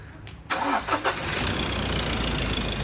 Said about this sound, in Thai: เดี๋ยวเรามา ลองสตาร์ทเครื่องยนต์ดูนะฮะ